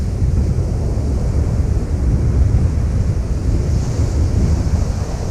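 Loud, continuous surf roars as waves break on the beach at Caister-on-Sea, Norfolk, with wind buffeting the microphone throughout.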